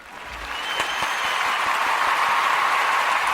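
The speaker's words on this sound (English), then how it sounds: "I'm going to applaud you right now." A crowd's applause swells from a few scattered claps into full, steady clapping that holds at an even level, heard alone without voices.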